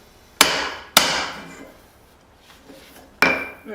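Hot steel is hammered while a dog nose hammer is forged, with three sharp, ringing metallic blows at uneven intervals, each decaying into a short echo and then quiet.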